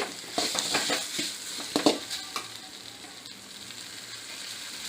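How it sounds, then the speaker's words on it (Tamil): Chilli chicken with onions dry-frying in a pan, an active sizzle with quick scraping stir strokes early on that then settle into a softer, steady frying hiss, close by and without speech. "போட்டு நல்லா ட்ரையாக வறுக்கணும்."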